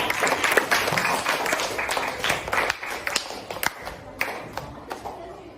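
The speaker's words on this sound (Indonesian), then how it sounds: "Ayo beri tepuk tangan." Classroom audience applause, a lively burst of close, uneven clapping from a group of students with some tapping and thumps as it gradually thins out toward the end.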